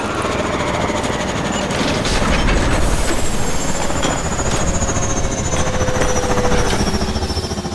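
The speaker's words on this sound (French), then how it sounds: "Rejoignez l'hélico." Helicopter in Call of Duty Advanced Warfare, a steady loud rotor-and-engine drone with a whining high tone running throughout, swelling slightly midway.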